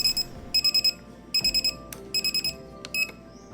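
An alarm clock rings in rapid bursts of electronic beeps, repeating in short clusters, loud and close, marking the end of a family decluttering game at home.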